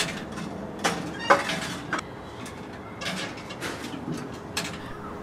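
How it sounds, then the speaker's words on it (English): Counterweighted bird box mechanism in a handmade clock at London Zoo, moving with a series of soft clicks and light mechanical knocks, faint and fairly close, with low background hum throughout. "This bird box has a counterweight,"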